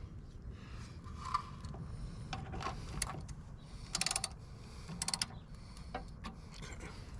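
A screw being turned on a Jeep Wrangler tailgate hinge during replacement of sagging, rusted original hinges, heard as a series of close metallic clicks and ratcheting ticks over a steady low background hum.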